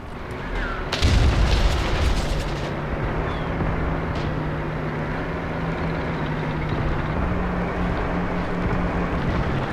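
Artillery guns fire on tanks during a World War II battle on the Mius Front in Graviteam Tactics. One heavy, booming blast is followed by a long, dense rumble of battlefield noise.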